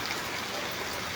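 Heavy rain pours down at Taboloichhari bazaar, a dense, steady hiss with no voices and no breaks for the whole brief moment.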